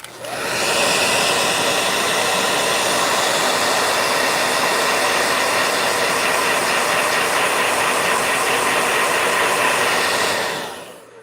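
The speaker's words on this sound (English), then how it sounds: "Ooh, blow dryer." A blow dryer runs at full power in a steady, loud rushing whoosh for about ten seconds, starting and stopping with short ramps and no voices.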